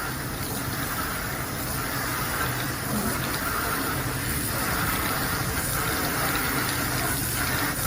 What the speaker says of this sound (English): Flush the outdoor side fin.